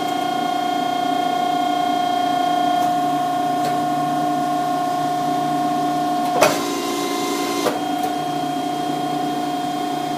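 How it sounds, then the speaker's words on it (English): An Accurpress AP2 press brake runs with a steady mechanical hum and tonal whine, broken by a short loud clunk partway through and a softer knock a moment later. "we verified so far that the press brake is still working"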